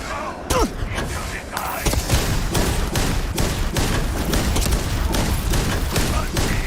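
Shotgun fire in the sci-fi video game Starfield: loud, repeated booming blasts at uneven intervals over a dense, continuous roar of combat.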